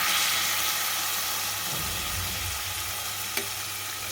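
Tempering ingredients are stirred in hot oil for wood apple rice. A loud, continuous sizzle and hiss fills the whole stretch, with a faint click partway through.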